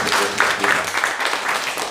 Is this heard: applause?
yes